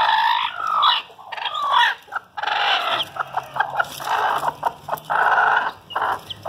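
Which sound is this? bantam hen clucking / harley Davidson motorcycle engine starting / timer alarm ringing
bantam hen clucking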